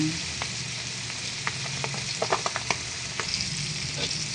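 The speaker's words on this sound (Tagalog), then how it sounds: "Ipiprito po natin siya isa-isa." Milkfish (bangus) steak pieces fry in hot oil, giving a steady close sizzle with scattered pops and crackles throughout.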